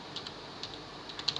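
Mouse clicks on a computer desktop while opening Notepad, heard as a few faint, sharp ticks, with a quick pair near the end, over a quiet room hiss and with no talking.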